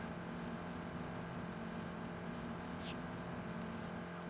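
A steady car engine drone in PUBG hums throughout at constant pitch, like a car idling or cruising, with a brief high chirp near the end.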